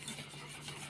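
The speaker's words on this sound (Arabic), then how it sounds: "نحرك" A spoon stirring chocolate pieces in a pot over heat for a no-bake cake makes a brief, quiet, even swishing scrape against a faint background hum.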